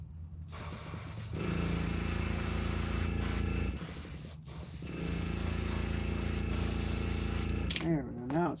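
An airbrush sprays paint onto a handmade wooden fishing bait in a workshop, giving long steady close hisses with short breaks between bursts and a sputtering moment at the end.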